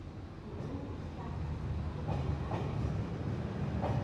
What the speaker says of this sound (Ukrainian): По колії пронісся поїзд.